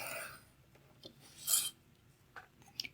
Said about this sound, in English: I'm just going to use my X-Acto knife to cut through this wood.